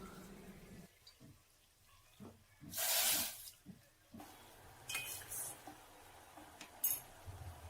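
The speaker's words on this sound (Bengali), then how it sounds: "তাতে আমি হাফ কাপ জল দেব।" Half a cup of water pours into a pan of sugar for syrup while making crispy khaja: a brief, close splashing gush amid kitchen clinks and stirring sounds, with no speech.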